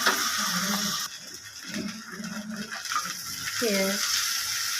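Shrimp sizzle in a pan with green chili, dried chili, onion, garlic, salt and turmeric, a steady close frying hiss with spoon scrapes while someone talks.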